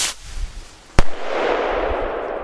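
A consumer New Year's firework rocket from a Galaxy set fires outdoors on a windy night, a sharp loud bang followed by a long crackling, hissing burst that fills the rest of the moment over rushing wind.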